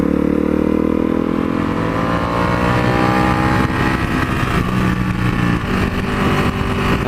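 A simple single-cylinder motorcycle engine runs loud and close, holding a steady throbbing drone with slight rises in pitch as it revs, with no one talking.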